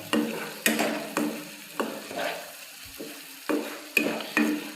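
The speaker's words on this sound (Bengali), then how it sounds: "আদা বাটা এবং রসুন বাটা। এটাকে ভালো করে এবার নাড়তে থাকুন।" Ginger and garlic paste stirred in a frying pan for dhaba-style chole, the spoon scraping in repeated rhythmic strokes over a steady soft sizzle, close and clear with no talk.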